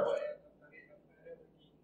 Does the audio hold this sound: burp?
yes